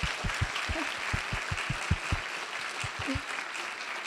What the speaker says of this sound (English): I would love for everyone to give them a round of applause